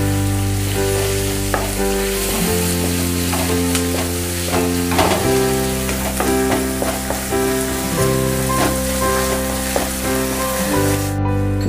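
Finely chopped onion fries in a hot pan for egg bhurji, a continuous dense sizzle and crackle with occasional stirring taps, running under steady background music.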